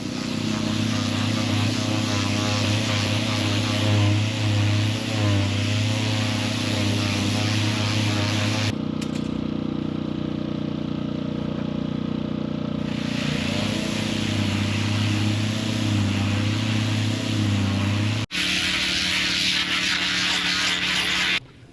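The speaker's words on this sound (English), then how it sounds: "now continuing with 40 grit sandpaper on the sander" Power sander fitted with 40 grit sandpaper grinding the fiberglass of a hurricane-damaged boat, a continuous loud droning whir with a brief pause partway through.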